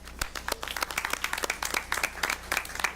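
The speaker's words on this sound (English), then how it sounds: "And let's give these people a round of applause." Applause fills a school board meeting of the Milwaukee Board of School Directors, a dense steady round of many hands clapping throughout with no talk over it.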